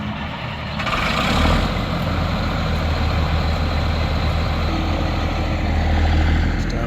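A Freightliner FL80 truck's heavy diesel engine runs nearby with a loud, steady low rumble and a rough, throbbing texture, continuing unbroken throughout with no talking.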